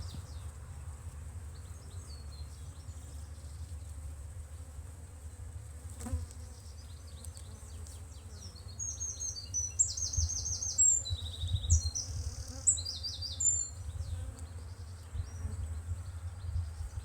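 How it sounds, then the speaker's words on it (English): Honey bees from an overwintered brood-and-a-half hive, opened and lightly smoked, buzzing in a steady close drone that swells louder midway, with occasional bird chirps in the background. "The bees are fairly calm today."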